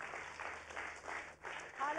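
A church congregation at an Apostolic Pentecostal service claps along in a steady, rhythmic patter, fairly faint and distant, with voices mixed in.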